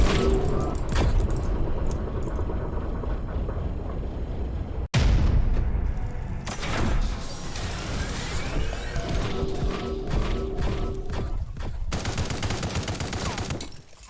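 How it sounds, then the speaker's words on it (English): Assault rifle fire in the sci-fi shooter Project Genesis, with dense bursts of rapid automatic shots and blasts. There is a sharp break near the midpoint, then more close, loud firing and mechanical clatter. "Let's see how this rifle actually compares to the SMG."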